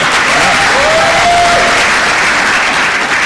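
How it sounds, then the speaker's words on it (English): An audience at a national young scientists exhibition claps steadily and loudly throughout, a dense continuous applause with a faint whistle-like tone briefly rising above it. "You clap for him too, please."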